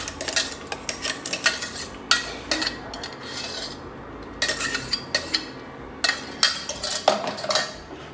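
Palak paneer being stirred into gravy in a pan, a metal spoon scraping and clinking against the pan in bursts of repeated strokes, loud and close with short pauses.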